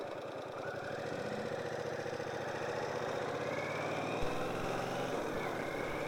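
Vehicle engine idling and running steadily at the start of a ride, a continuous mid-pitched rumble with a faint knock, moderately close and unaccompanied by talk.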